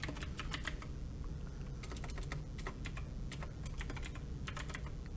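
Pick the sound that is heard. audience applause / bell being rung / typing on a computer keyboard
typing on a computer keyboard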